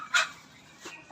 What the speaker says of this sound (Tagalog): Yan po yung mga bibe.